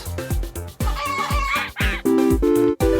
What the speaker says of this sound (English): And we get 2 chickens.